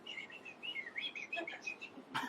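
A person imitates birdsong, whistling a quick, faint run of high chirps and trills, ending with a short sharp burst.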